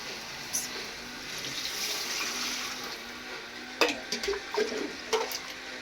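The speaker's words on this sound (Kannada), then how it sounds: "ಹಾಕು ನೀರು ಹಾಕು." Water is poured into a cooking pot, a faint steady rush of liquid, followed by a few brief splashes and clinks close by.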